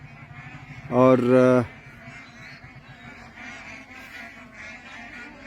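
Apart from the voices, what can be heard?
migratory birds, geese and ducks, calling at a wetland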